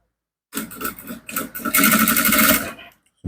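A sewing machine stitches garment fabric for a top in one short close burst lasting a few seconds, starting after a moment of silence and stopping abruptly.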